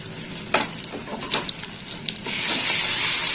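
Spice paste with ground coriander, cumin, green chili and red chili powder sizzles and fries in a pan under stirring scrapes, the hiss rising to a steady loud frying near the end.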